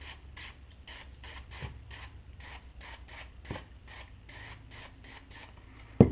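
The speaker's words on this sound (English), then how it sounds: "I've got some spray adhesive, and I'm just spraying the backs of the foam" Short rhythmic hissing bursts of a spray adhesive can sprayed onto foam, about a dozen quick sprays in a steady pattern, close by, ending with a sharp knock.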